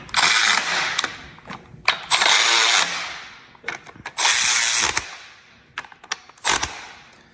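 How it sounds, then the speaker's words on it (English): Torque wrench ratcheting on intake manifold bolts of a Chevy 383 stroker engine, several close, loud bursts of rapid clicking separated by short pauses and single clicks. "actually torque your intake manifolds with a torque wrench?"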